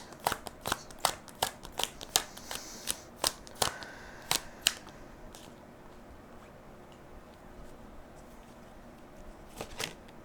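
Tarot cards being shuffled and laid down, a run of crisp close riffles and snaps in quick rhythm, thinning out to a few soft taps and a final pair of flicks after a quiet stretch.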